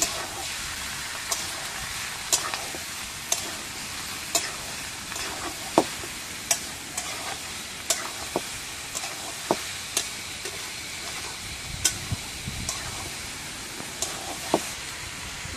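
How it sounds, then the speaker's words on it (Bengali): Duck meat sizzles in a hot pan with a steady frying hiss, broken by regular scraping clicks of a spatula stirring the pieces, close and fairly loud with no talking. "মাংসটা আমি ভালোভাবে একটু ভাজা ভাজা করে নেব, তারপরে আমি অন্য সব মশলা দেবো।"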